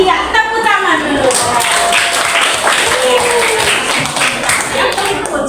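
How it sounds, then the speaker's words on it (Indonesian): A class of seventh-grade students claps together in a science lesson, a dense, steady patter of many hands that carries on without a break, with voices mixed in. "tepuk tangan dulu"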